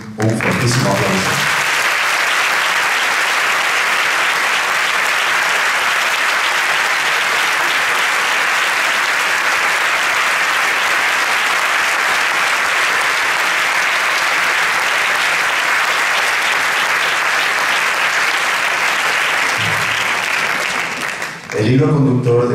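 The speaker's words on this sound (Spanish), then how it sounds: "Creo que se merecen un fortísimo aplauso." A theatre audience at a gala presentation in Torrelavega's Teatro Municipal Concha Espina applauds the dancers, loud and sustained for about twenty seconds, with brief speech at the very start and end.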